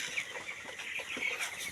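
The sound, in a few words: young chickens clucking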